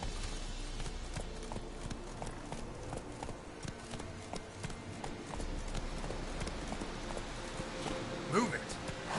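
Hooves of Roach, a horse in a PS4 video game, clip-clop rapidly in a steady galloping rhythm, close and continuous, with a voice speaking briefly over it.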